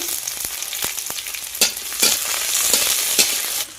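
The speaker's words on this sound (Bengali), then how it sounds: "তেল দিয়ে দেব প্রথমে পেঁয়াজগুলো ভেজে নেব ওর সাথে কাঁচা লঙ্কাগুলো দিয়ে দেব" Onions and green chillies sizzle in hot oil in a heated pan, a continuous bright crackle broken by a few louder spatters and stirring scrapes, with no talking.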